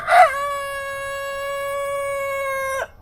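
A young chicken tries to crow, giving one weak, strained rooster-like crow that holds a thin steady pitch for about two and a half seconds before cutting off, close and clear with no talking.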